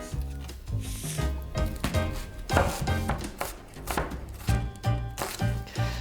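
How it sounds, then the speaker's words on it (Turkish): Onions and garlic are chopped finely with a knife on a board, making quick, close, steady knocks in a continuous rhythm with no talking. "Soğanları, sarımsakları ince ince kestim."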